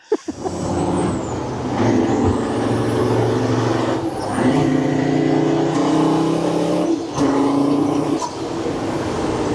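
A van's 400 hp engine revs up through rising gears, roaring loudly and close, with brief pauses between shifts.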